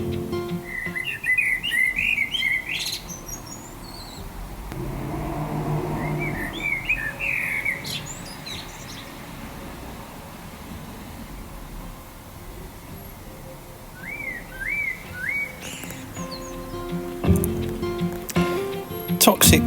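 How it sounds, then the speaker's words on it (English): Blackbird song from a garden, several bright fluting phrases spaced apart over a steady outdoor background, with occasional rustling and a few louder knocks near the end. "I was sitting in the garden and I heard that blackbird singing"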